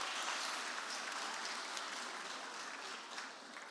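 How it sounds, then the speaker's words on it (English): Audience applause at a languages and careers festival award moment, a dense, steady wash of clapping that stays loud throughout and thins slightly near the end, with no voices over it. "Big round of applause, please."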